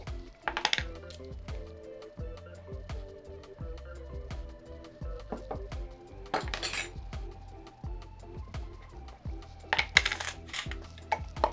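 Small metal measuring spoons clink and clatter as they are set down on a kitchen counter while making a hash brown casserole, a series of sharp close metallic taps and jingles spread across the stretch, with a few brighter bursts.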